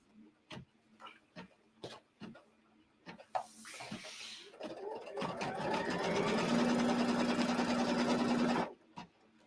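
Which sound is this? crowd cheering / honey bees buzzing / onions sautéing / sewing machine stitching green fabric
sewing machine stitching green fabric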